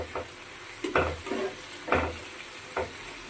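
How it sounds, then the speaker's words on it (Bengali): Potatoes and dingera fish fry together in one pan, giving a soft, steady sizzle broken by a few spatula stirs and scrapes at close range, with no talking. "একদিকে আলুটা ভাজা বসিয়ে দিয়েছি,"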